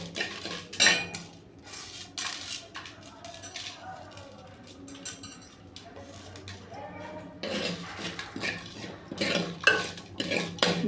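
Crushed garlic and dried red chillies fry in a pan while a metal utensil scrapes and clatters against it in irregular bursts, close and fairly loud, with quieter stretches between stirs.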